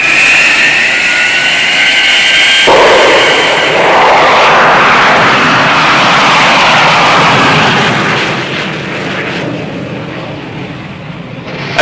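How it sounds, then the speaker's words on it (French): Jet engines of the Voltaire vertical take-off fighter in a 1968 TV series roar loud and steady, a broad rushing blast that swells after a sharp onset and eases slightly toward the end. "un chasseur révolutionnaire capable de décoller et d'atterrir verticalement"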